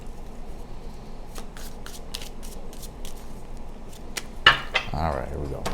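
Tarot cards being shuffled by hand, a series of quick crisp riffles and slaps spread across the clip, close and fairly quiet, with a louder rustle near the end.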